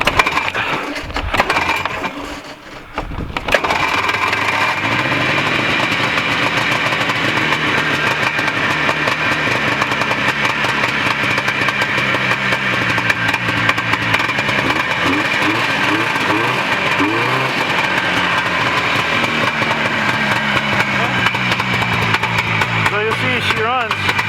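Vintage 1970s Arctic Cat snowmobile engine running cold on half choke, a loud, close, continuous rough two-stroke drone with uneven burbling, following a brief sputter of pull-starting.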